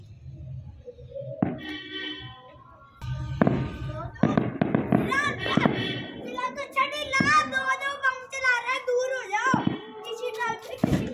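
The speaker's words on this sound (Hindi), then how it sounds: "आराम से फटा ये बॉम्ब" Diwali firecrackers burst in a few sharp, loud pops amid children's excited chatter and shouting, with the bangs scattered between stretches of talk.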